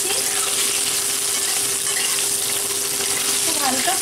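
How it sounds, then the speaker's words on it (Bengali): Potatoes fry lightly in a pan with an even, constant sizzle throughout, close and fairly loud, while a faint steady hum sits underneath. "আমি প্রথমে আলুগুলোকে একটু ফ্রাই করে দিচ্ছি"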